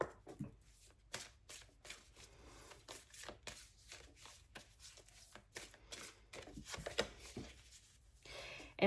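Tarot cards being shuffled by hand in repeated quick riffling bursts, close and fairly quiet, with brief pauses between passes and no talking.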